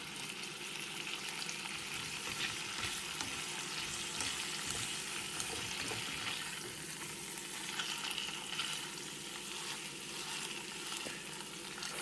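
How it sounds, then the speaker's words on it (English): Chicken fries in a pan with a steady, dense sizzle that carries on without a break and holds the same loudness throughout, close and alone with no talking. "Frying chicken is really difficult."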